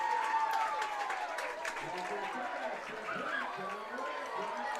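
A crowd at a high school varsity football game cheers and claps after a long completed pass, a lively roar of voices and applause running throughout with a commentator's voice on top.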